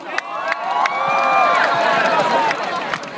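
Large crowd at a school's 65th anniversary celebration applauding and cheering, loud and sustained, with sharp claps, whoops and a busy murmur of voices rising and falling throughout.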